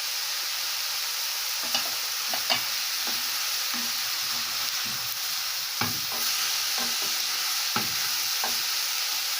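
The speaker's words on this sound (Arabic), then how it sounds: "هديها تقليبه كده" Macaroni and minced meat sizzling in a pan under a constant frying hiss, with occasional scrapes and knocks from a spoon as they are stirred, close by.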